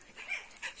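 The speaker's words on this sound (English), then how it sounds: "This is our dog" A farm dog, a new mother with young puppies, gives faint, brief yips and whimpers in two short bursts, with no talking.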